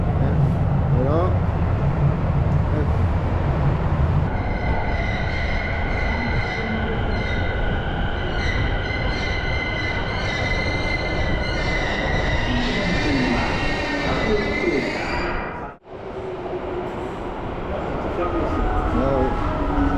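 A Tokyo metro train runs past a station platform, its loud rumble and screeching wheels filling the scene with steady, near noise, a brief dip toward the end, and people talking over it.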